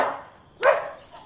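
A small dog gives a single sharp bark in a French Tintin radio drama, a short close yap standing alone after a quieter stretch, followed by a faint trailing sound.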